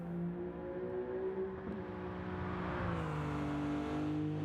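A 1990 Nissan Skyline GT-R Nismo in a racing game drones at high revs, its engine note holding steady, then dipping and climbing again through a gear change, loud and close.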